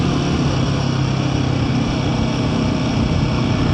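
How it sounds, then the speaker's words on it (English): A Royal Enfield Himalayan 450 single-cylinder motorcycle idles with a steady, throbbing beat and a low, loping exhaust note, close and continuous throughout. "Quite like the exhaust note."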